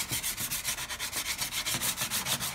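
Soft sponge rubbed by hand over an aluminum snowmobile tunnel, a rhythmic swishing scrub repeating in quick even strokes, close and fairly quiet, with no voices.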